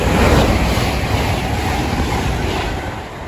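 A Voyager train passes through Harrow and Wealdstone station, a loud, steady rumble of wheels and engine that holds level for several seconds and then eases off slightly.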